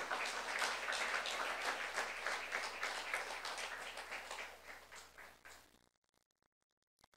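A church congregation at a Saturday youth worship service claps together in steady, dense applause for God, loud at first and slowly thinning before cutting off into near silence.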